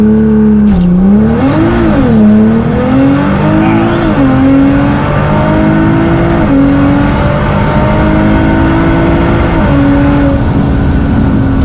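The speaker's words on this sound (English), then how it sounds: "Let off the brake and the car will go really, really quick." A Nissan GT-R R35 launching hard under launch control on a warm day, the engine roaring loud and close as it pulls rapidly up through the gears with brief shift dips, no talking.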